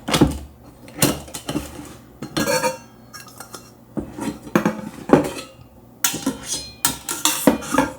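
Metal camping cookware, an outer pot, inner pot and lid, is handled up close, with repeated loud clanks, clinks and scrapes in irregular bursts separated by short pauses.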